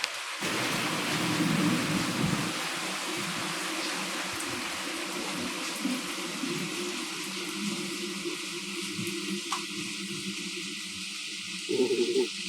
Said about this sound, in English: It is pelting rain right now.